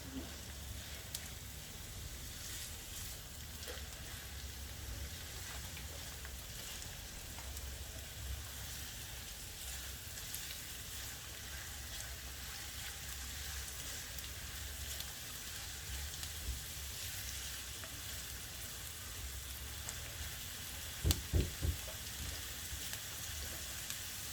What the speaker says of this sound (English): Fry the onions till it's translucent.